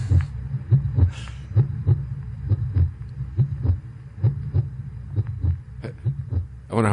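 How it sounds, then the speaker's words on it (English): Steady, pulsing heartbeat thumps from Pink Floyd's Dark Side of the Moon recording beat in a regular double rhythm, low and muffled, continuing throughout at moderate loudness. "Still got the heartbeats."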